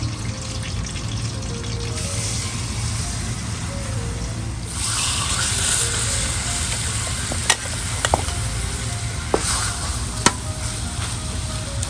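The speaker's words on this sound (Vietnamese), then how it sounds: "đặt chảo dầu lên chiên vàng gà hai mặt để cho gà được thơm hơn" Chicken browning on both sides in a pan of hot oil on a home kitchen stove, with a steady close sizzle and spatter throughout, some stirring and clatter, and a few sharp clicks near the end.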